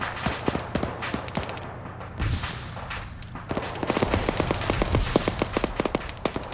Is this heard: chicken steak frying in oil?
no